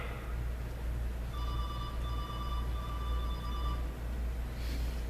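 A mobile phone rings during a church sermon, a thin repeating electronic tone heard faintly over steady room hum for a few seconds before stopping.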